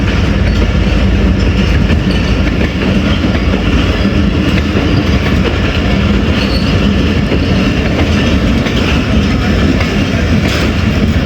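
Passenger rail car train moving through Attock City Junction, a loud continuous rumble with rattling wheels and clickety-clack over the track joints, close by and without speech.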